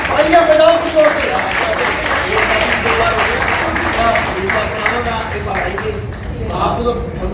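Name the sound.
audience applause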